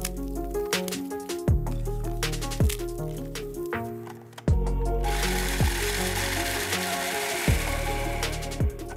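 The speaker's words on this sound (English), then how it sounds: "my bickies won't fit in the food processor, so what I like to do is blend the first batch and add the rest" A food processor whirs steadily as it blends biscuits into crumbs, with a continuous loud motor drone and a rougher, grittier grinding tone in the second half, close up and without talk.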